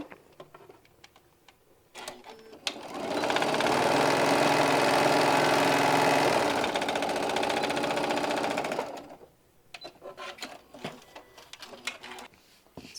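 Sewing machine stitching a fabric piece, a steady loud mechanical whir lasting about six seconds, framed by quieter handling clicks and rustles before and after.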